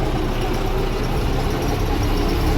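A farm vehicle's engine runs with its exhaust pipe fallen off, giving a loud, continuous raw rumble and rough idle at the edge of a field during harvest season.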